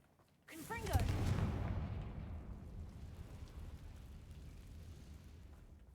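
A Confringo spell blast in Hogwarts Legacy erupts suddenly after a quiet moment, a booming explosion with crackling bursts that settles into a long rumbling roar fading over several seconds.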